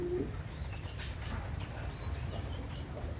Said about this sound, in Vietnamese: Đây là con chim bồ câu trống này.